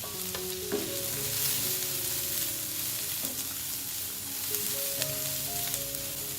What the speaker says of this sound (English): add the chopped onions and saute the onions for a minute and a half